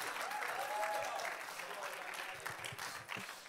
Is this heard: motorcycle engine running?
no